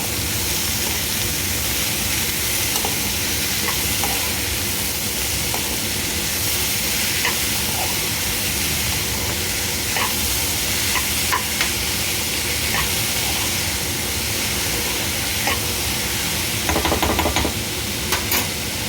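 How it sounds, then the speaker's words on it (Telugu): Chopped ivy gourd and garlic sizzle steadily in a hot pan, a dense continuous frying hiss with occasional soft stirring scrapes and a brief clatter near the end. "కట్ చేసి పెట్టుకున్న దొండకాయలు అండ్ వెల్లుల్లిపాయలు కూడా వేసుకొని మంచిగా ఫ్రై చేసుకోవాలి"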